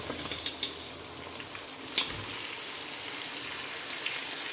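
Tomatoes dropped onto softened onions in a frying pan set off a steady, close sizzle, with a few sharp pops and spatters near the start over a continuous bright hiss.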